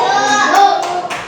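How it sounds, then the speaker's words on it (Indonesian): A classroom group gives brief applause for a drawing, a short burst of clapping lasting about a second, close and fairly loud. "Tepuk tangan"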